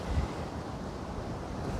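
Ocean water washes against rocks between two capes, a steady broad wash of surf with wind buffeting the microphone, continuous and fairly close, with no talk.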